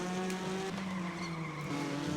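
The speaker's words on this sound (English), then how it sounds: "you've got the screeching tires" Race car tires squeal in the iRacing Arcade game, with sustained whining tones that bend and shift under a constant engine drone, loud and close for about two seconds.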